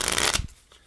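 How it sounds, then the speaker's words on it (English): A brief, crisp riffle of cards being shuffled, close and loud, then cutting off into near silence. "I can hand the deck over to the spectator and they can give it a shuffle."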